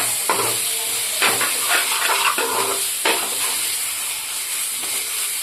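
Tomatoes sauté in a hot pan for chicken gravy, giving a steady bright sizzle broken by a few scraping stirs, loud and close with no voices.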